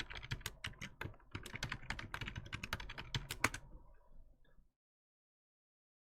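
Brisk typing on a computer keyboard as an administrator password is entered during a Windows Server 2019 setup, a dense run of close key clicks for about four seconds before falling silent.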